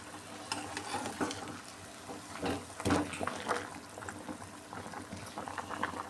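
Water bubbling at a boil in a pot, a soft, uneven gurgle with occasional louder pops, fairly quiet and close.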